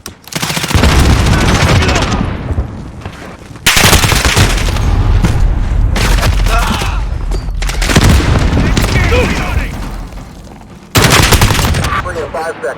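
In a first-person shooter match, loud close bursts of rapid gunfire alternate with heavy booming blasts, including a grenade explosion, each burst cutting off sharply before the next, with brief game voice callouts mixed in.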